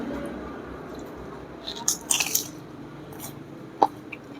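Crunchy bites into crispy fried chicken skin, a few sharp crackling crunches in a short cluster followed by one more bite, close up beneath a soft murmur of background voices.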